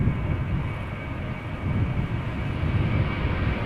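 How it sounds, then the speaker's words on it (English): An 18-year-old Airbus A321 at Amsterdam Schiphol Airport gives a steady, loud jet engine roar, a broad continuous rumble that holds without pause. "Speedbird flight 439 Airbus A321 going to London Heathrow, an 18-year-old airplane"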